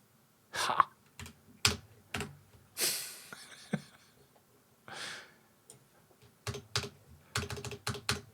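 Someone types on a computer keyboard during a coding session, irregular bursts of close, crisp key clicks with short pauses and occasional breathing between runs.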